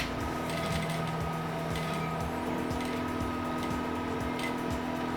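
Sewing machine stitching suit lining on a double-vent jacket, a steady continuous mechanical hum with fast regular ticking needle strokes, close and even throughout without speech.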